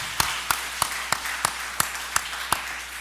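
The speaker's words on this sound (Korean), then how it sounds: "그런 의미에서 우리 새로 탄생하실 까마귀들에게 박수 한번 치겠습니다" Rhythmic clapping in a church during a Sunday evening worship service: about eight sharp, evenly spaced claps ring out in a steady beat over a quiet room.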